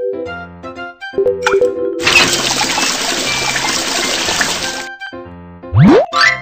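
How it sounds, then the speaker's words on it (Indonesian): Water runs from an opened tap during a daily-chores routine of washing clothes. It makes a steady rushing stream for about three seconds, with plops and a rising cartoon boing effect around it. "Buka keran air."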